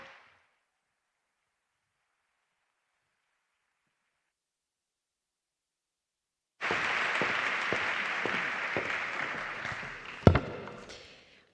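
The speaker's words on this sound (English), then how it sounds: "Big round of applause." After several seconds of near silence, a crowd at an Erasmus+ meeting breaks into sustained applause, steady and fairly loud, with a sharp clap spike near the end.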